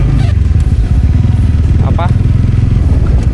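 Motorcycle engines idle and rumble loudly and continuously while riders queue at Kayangan ferry port on Lombok, with clattering harbour noise and faint voices mixed in.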